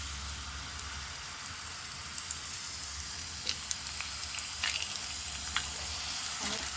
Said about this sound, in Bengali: এখন আমি এই যে ছেড়ে দিলাম গরম তেলে।